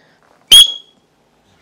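A person whistles in imitation of an Arctic ground squirrel's call, giving a single sharp, piercing chirp that fades quickly, close and clear in near silence.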